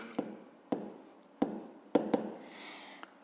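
Pen scratching out a fifth-grade maths solution on paper, in short strokes and sharp taps set a few tenths of a second apart, close and quiet, with no speech.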